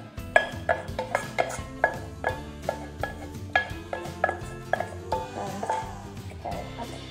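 Utensil scraping salmon and spinach out of a pan, heard as a steady series of close, clattering scrapes and clinks in a regular rhythm, with no talking over it.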